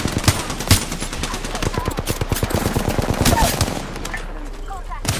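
Rapid automatic gunfire in the video game Apex Legends, dense bursts of sharp shots running almost continuously for several seconds, loud and up close, with players talking over it.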